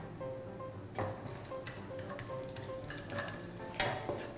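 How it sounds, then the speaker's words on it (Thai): Dried shrimp frying in oil over raised heat until golden and crisp, a quiet steady sizzle with occasional louder crackles and stirring. "เราจะทำการเจียวนะคะกุ้งแห้งนะคะให้เหลืองกรอบก่อนนะคะ ในน้ำมันค่ะ"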